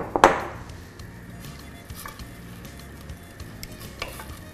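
Onion and garlic fry in a pan with a soft, steady sizzle, opened by a sharp clank and followed by a few light scrapes of stirring, close and otherwise without speech.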